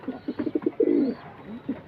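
Domestic pigeons in a loft cooing, a series of soft rhythmic coos followed by a longer rolling coo, close and clear with little background.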